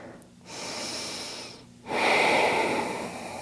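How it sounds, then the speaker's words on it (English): Two long, loud breaths during a beginner yoga standing pose, each a broad hiss of air with a short pause between, the second stronger and closer than the first, with no talking. "breathing here for 3"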